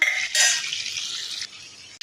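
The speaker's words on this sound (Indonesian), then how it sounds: "kita goreng udang ini tak lama ya, sekejap je" Prawns frying in a pan for buttermilk prawns, a brief bright sizzle that flares then settles into a steady hiss before cutting off, heard alone without talk.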